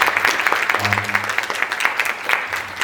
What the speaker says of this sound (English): Round of applause for Chris